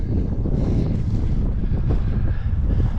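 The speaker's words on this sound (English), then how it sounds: "The wind's kind of blowing." Steady wind blows across an open cemetery in Erie, Colorado, a loud continuous roaring rush buffeting the microphone without a break.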